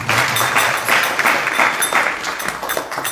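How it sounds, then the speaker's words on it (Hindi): Audience applause after a devotional katha talk, a steady dense clatter of many hands clapping, loud and sustained throughout with no let-up. "जोरदार तालियां हो जाए"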